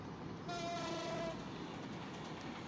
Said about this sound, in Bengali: দেখা যাচ্ছে খুবই দ্রুত গতিতে একটি ট্রেন ছুটে আসছে